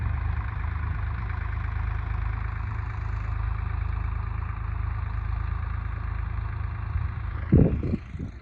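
A farm tractor's diesel engine idles steadily at close range with a deep, even low rumble, followed by a brief louder burst of clanking or revving near the end.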